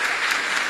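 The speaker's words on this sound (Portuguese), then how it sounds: "Peço uma salva de palmas" Audience applause for a doctor after her talk at a 2024 symposium; dense, even clapping from the crowd, loud and close, held steady for the whole brief moment with no speech.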